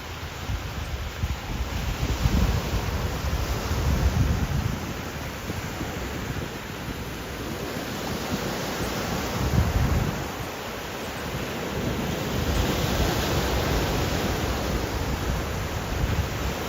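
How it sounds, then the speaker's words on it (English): Ocean waves breaking on an island beach at Koh Samet, Thailand, a soft broad wash of surf rising and falling in slow swells, mixed with wind buffeting the microphone, no voices. "You can hear the ocean better, but not my voice."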